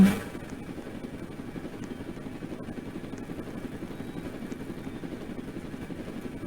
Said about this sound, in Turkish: Helikopter çağırınca buraya geliyor mu?